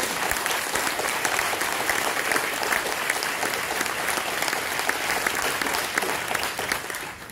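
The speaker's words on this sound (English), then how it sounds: "So please give yourselves a round of applause." Concert audience applauding throughout, a dense steady wash of many hands clapping at close range from start to finish, with some crowd noise mixed in.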